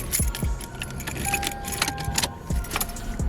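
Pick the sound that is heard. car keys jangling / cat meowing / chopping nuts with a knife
car keys jangling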